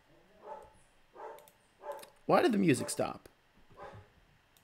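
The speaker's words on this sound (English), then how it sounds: "Oh, my dog do be barking." A pet dog barks a few times indoors, a little way off. Between the short, spaced barks a nearby person talks.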